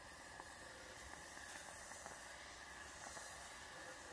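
Steady, broad hiss of steam jetting continuously from a handheld steamer at moderate volume, with a few faint clicks and taps underneath, no voices.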